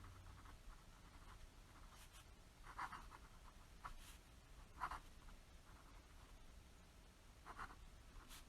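A PenBBS 456 fountain pen with a Schmidt fine nib writing on paper, giving faint, close scratchy strokes with soft taps in an irregular rhythm and no voice.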